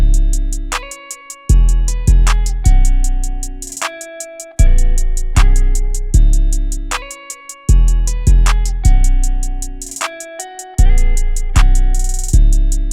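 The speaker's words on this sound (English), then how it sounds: "next up I put down this 808." A deep, booming 808 bass plays in a looping guitar-based trap beat made in FL Studio, its long sustained notes hitting in a rhythmic pattern over steady hi-hats.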